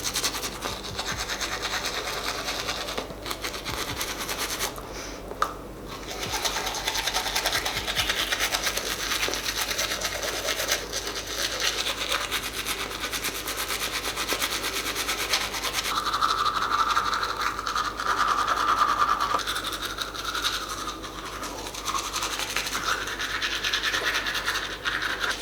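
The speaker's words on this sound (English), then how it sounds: "So we'll get some toothy paste and let's get brushing." A toothbrush with toothpaste scrubbing teeth fitted with adult braces: a continuous close, scratchy bristle rasp sustained for over twenty seconds with only brief dips, no speech over it.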